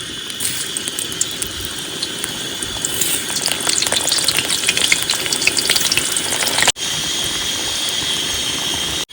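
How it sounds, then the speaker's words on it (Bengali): Potatoes frying in hot mustard oil in a pan, a loud close crackling sizzle with sharp spitting pops and occasional stirring, continuing steadily throughout. "তেল গরম হয়ে গেছে প্রথমে আলুগুলো ভেজে নেবো"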